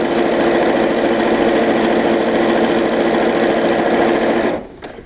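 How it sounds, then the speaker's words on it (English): A sewing machine stitches fabric, running steadily with a fast, even mechanical whir, loud and close, then winds down and stops near the end. "You just let it slide through the sewing machine."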